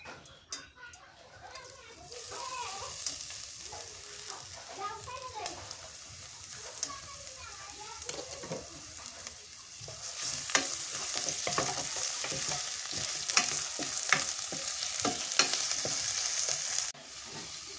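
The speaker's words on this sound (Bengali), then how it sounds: "সরিষার তেল দিয়ে দিই পেঁয়াজ কুচি দিয়ে দিই" Chopped onion fries in mustard oil with a steady close sizzle and repeated stirring scrapes. A voice talks over the opening seconds, and the frying grows louder in the second half.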